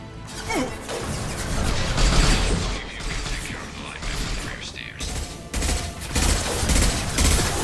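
Rapid bursts of gunfire and impacts crash through a Mass Effect 2 firefight on PC, loud and dense with repeated volleys, smashing hits and brief pauses between bursts.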